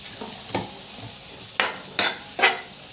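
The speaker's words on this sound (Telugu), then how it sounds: "కొంచెం నెయ్యి వేసుకుని కలిపి పెట్టుకున్న రవ్వని కొబ్బరిని వేసుకుని దోరగా ఫ్రై చేసుకోండి" Semolina and grated coconut fry in ghee with a soft sizzle, broken by four or five sharp scraping stirs of a spoon against the pan, near and clear with no talk.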